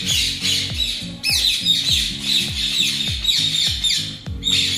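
Ring-necked parakeets squawk in repeated harsh, shrill calls from close by, several birds overlapping in quick irregular bursts.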